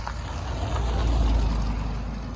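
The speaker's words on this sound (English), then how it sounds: "Sorry about the road noise." Steady low rumble of road noise from a moving vehicle near Willcox, Arizona, a broad continuous roar that swells slightly in the middle, with no voices.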